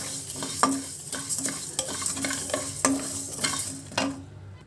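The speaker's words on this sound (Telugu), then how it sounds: "కొద్దిగా వేగాక దాల్చిన చెక్క అలాగే లవంగాలు కూడా వేసి వేయించుకోవాలి. మాడకుండా వేయించుకోవాలండి." Cinnamon sticks and cloves are dry-roasted in a kadai, with a spoon scraping and stirring in a steady rhythm of repeated strokes and a soft sizzle, close and fairly quiet, with no talking.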